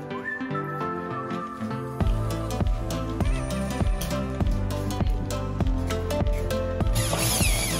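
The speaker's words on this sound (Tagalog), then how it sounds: "tatapusin lang namin yung pagbubutas para sa 24 downspouts" A drill bores holes in a plastic downspout for a hydroponic NFT channel. A whining tone rises and falls with repeated rhythmic pulses as the bit cuts, ending in a brighter, harsher grind.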